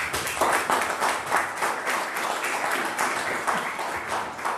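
Steady, moderately loud applause from a lecture-hall audience welcoming a professor emeritus of chemistry, with clapping continuing evenly throughout the short stretch.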